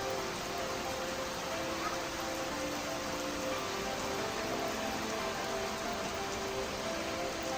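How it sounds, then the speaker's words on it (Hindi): Steady rain falls outside in a village as a constant broadband hiss, with a faint voice murmuring somewhere in the background. "देख सकते हो बढ़िया बारिश आ रही है बाहर, एकदम बढ़िया।"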